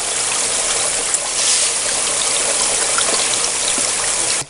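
Steady rushing water pours through a homemade fluid bed sluice box set up for recirculating or stream use, a continuous close trickling flow from start to finish with no talk.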